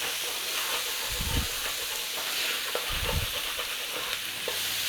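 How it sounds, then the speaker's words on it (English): Garlic and onions fry in a pan for pulled beef, a steady loud sizzle and hiss with a couple of low scraping stirs across the bottom of the pan, close up and with no talking. "we're going in there, garlic and onions. Give it a nice little stir around."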